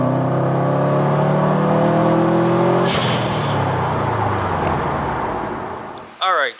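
A Subaru STI cruises with a steady engine hum and road noise, then lets out a bright whooshing hiss from its blow-off valve as the drone fades. A short voice-like burst follows at the end.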